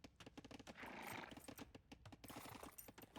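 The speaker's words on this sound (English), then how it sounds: "Did that ox just make a horse sound?" A horse whinny and clip-clop hooves from an ox unit in an Age of Empires-style real-time strategy game, heard as busy rhythmic game sound effects with a neigh rising in the middle, fairly faint.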